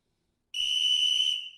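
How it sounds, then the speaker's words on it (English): A small coach whistle gives one steady, shrill blast of about a second, loud and close, with no talk over it. "Since you're a coach, a little coach whistle."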